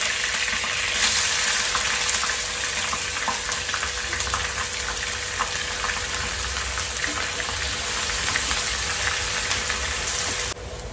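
Curry leaves and onion fry in hot oil, giving a steady, dense sizzling hiss that stays loud and unbroken for the whole stretch, with no voices.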